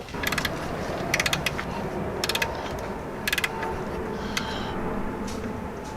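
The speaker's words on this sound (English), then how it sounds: "15 millimeter loosen up this pulley" A wrench loosens the 15 mm tensioner pulley bolt on a 2000 Jeep Cherokee during a water pump job, giving several short ratcheting bursts in small clusters against a steady background hum.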